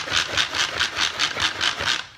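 A Pampered Chef plunger food chopper is pumped by hand to chop onions, making about eight even, rhythmic clacking strokes, each a rattling whoosh, close and loud with no talk over them.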